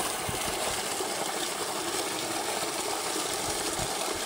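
Water gushing hard from a motor-driven pump onto a farm field: a steady, loud, broadband rush of pouring water with a low mechanical hum underneath, continuous and close throughout.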